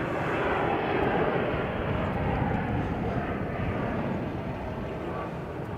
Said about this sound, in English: we really haven't had any heavy takeoffs, but there you go. That was one right there